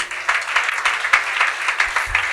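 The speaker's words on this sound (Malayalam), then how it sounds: "ആ ഡോക്ടർക്ക് ഒരു ക്ലാപ്പ് കൊടുത്തത് നിങ്ങൾ." An audience claps together in a hall for a doctor who has just stood up, a steady patter of many hands that carries on at an even level for a couple of seconds.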